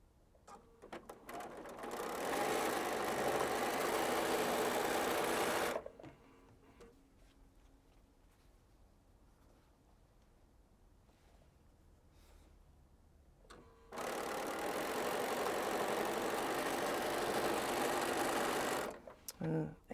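A sewing machine stitches pieces of quilt fabric in two loud, steady runs of several seconds each, separated by a quiet stretch in which faint handling noise can be heard.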